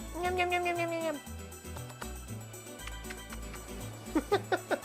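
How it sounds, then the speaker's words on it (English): A pet cat named Miko meows in a few short, rising cries up close, then gives a quick run of sharper meows, with background music and a voice talking softly. "Oh, you're such a patient cat."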